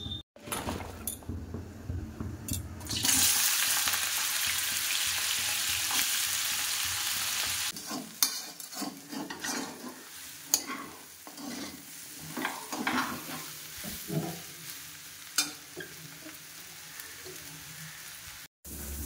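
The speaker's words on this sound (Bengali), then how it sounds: "তেলের মধ্যে শুকনো লঙ্কা আর জিরে ফোড়ন দিয়ে দিয়েছি।" Dried red chillies and cumin seeds crackle and sizzle in hot oil as a tempering, with a loud burst of frying early on settling into steady sizzling broken by spoon-stirring scrapes and clinks.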